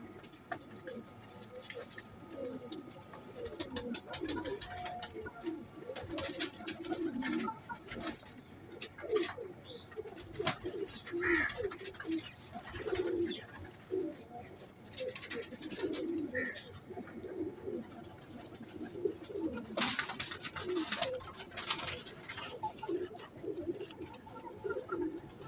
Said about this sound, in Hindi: ये रामपुरी कबूतर है, साख रामपुरी।